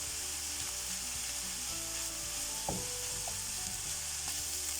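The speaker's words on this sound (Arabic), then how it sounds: "سأواصل الخلط حتى يذبل الجزر." Carrots frying in a pan, seasoned with salt and chili paste, a strong continuous sizzle with an occasional scrape of a utensil as they are stirred until wilted.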